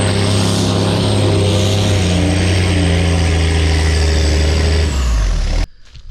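A 7-ton six-wheel-drive truck engine roars at high load while climbing a steep hill, all six tires locked in and spinning; the loud, steady drone holds for several seconds before cutting off abruptly.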